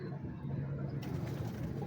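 Pigeon of the Mian Sahib line, a young nine-feather bird, gives soft low cooing in a steady murmur, with some handling noise and background bustle in the loft.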